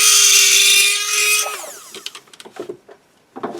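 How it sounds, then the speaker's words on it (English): A standard cylindrical dental burr on a handpiece enlarges holes in an All-on-4 denture for temporary cylinders, giving a loud steady high whine that drops in pitch and cuts off midway, followed by faint scattered clicks and handling noises. "I like to use just a standard cylindrical burr"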